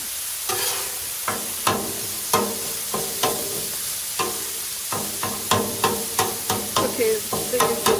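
Chorizo browning on a Blackstone griddle gives a constant sizzle broken by regular scraping spatula strikes, loud and close, quickening near the end.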